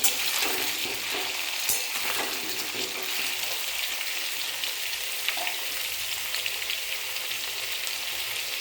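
Potatoes for kosha aloo dum fry in a pan with a steady, close sizzle and hiss. Occasional stirring scrapes rise over it, and there is no talking.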